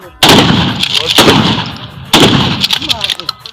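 Three loud, sharp gunshots fired from a standing position during firearms training, spaced about a second apart, each with a ringing tail; a voice speaks faintly between shots.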